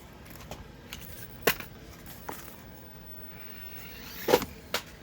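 A Losi Micro B 1/24-scale RC buggy drives with a faint, steady electric motor whine, broken by a few sharp clicks and knocks as it bumps along.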